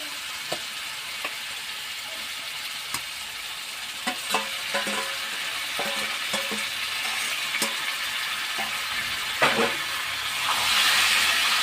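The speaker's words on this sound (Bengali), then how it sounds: "মাছগুলো দিয়ে আমি এটাকে মশলার সাথে মিশিয়ে নেব।" Lightly fried lote fish stirred into cooked-down spice paste in a pan, a steady close sizzle and hiss with scattered clicks and scrapes from the stirring utensil, no talking.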